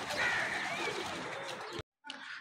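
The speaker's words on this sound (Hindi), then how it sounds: "ये देखे गाइस सारे अब उतर रहे हैं।" A flock of pigeons settles back onto a rooftop, with soft cooing and fluttering close by, continuous for about two seconds, a brief silence, then resuming.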